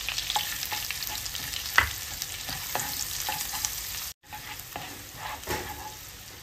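Garlic and white onion sauté in a pan, giving a steady sizzle with scraping stirs and a few sharp clinks of a utensil on the pan. The sound stops briefly partway through, then the frying resumes.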